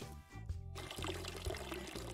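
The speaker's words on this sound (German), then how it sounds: "Ich muss hier wieder nachgießen, glaube ich." Water pouring onto plants in the video game Weed Shop 2, a short splashing pour over steady game background music.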